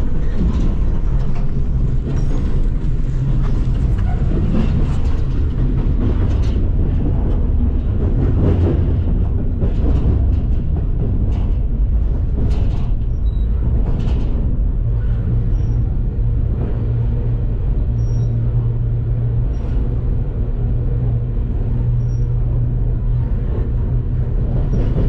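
A train rolls past close by, a loud, steady rumble and rattle of wheels and cars that lasts throughout with no voices, occasional higher squeals riding on top.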